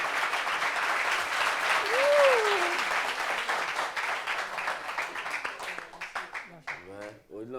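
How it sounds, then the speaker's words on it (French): An audience breaks into sustained applause, a dense wash of clapping that swells then thins out toward the end, with a voice calling out over it and speech resuming at the finish. "applaudissements"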